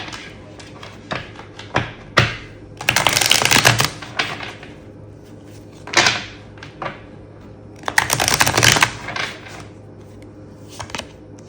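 Tarot cards from The Pulp Tarot deck getting a hard shuffle, two long bursts of rapid riffling flutter close by, separated by scattered card taps and snaps.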